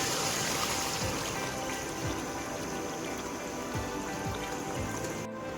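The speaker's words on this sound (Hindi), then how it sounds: "अब इसके अंदर हम यखनी ऐड करेंगे" Yakhni broth poured into a beef bone and marrow curry, giving a steady close liquid splashing and trickling sound that runs throughout with no talk.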